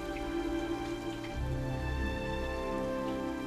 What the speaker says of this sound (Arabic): بزعجك صوت المطر؟